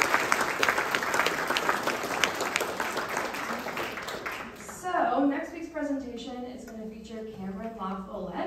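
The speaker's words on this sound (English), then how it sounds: "give Chris one last round of applause" Lecture audience gives a warm round of applause for a master salvage diver, a full, dense crowd clapping that runs for nearly five seconds, then fades as a speaker begins talking over the tail end.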